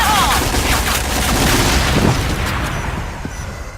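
Gunfire and explosions from a tactical shooter video game fill the clip with continuous loud booms and rattling bursts, layered over dense game noise.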